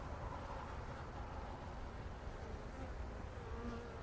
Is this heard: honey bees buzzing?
yes